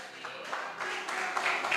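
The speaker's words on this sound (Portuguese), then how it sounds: "Se essas palmas foi para mim, muito obrigado." Congregation applauding in a church service, a steady dense wash of clapping sustained throughout, moderately loud and close.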